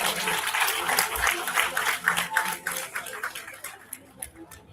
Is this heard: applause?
yes